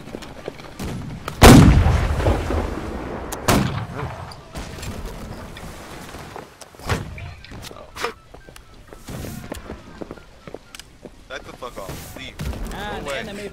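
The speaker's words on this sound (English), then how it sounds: "Watch out for the cannon blast" Heavy ship cannon blasts boom in a Napoleonic-era naval battle game, one big near blast followed by several more scattered shots and thuds, with voices talking over the action.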